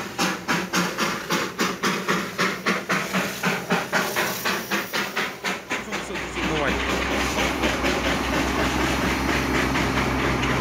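A Darjeeling Himalayan Railway toy train engine chuffs in loud, regular rhythmic puffs close by, then the beat gives way to a steady engine drone and hiss.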